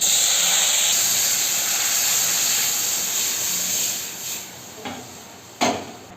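Boiled moong dal for a sour dal with amra goes into a hot pan, giving a loud, steady sizzling hiss that slowly fades, with a few soft knocks toward the end.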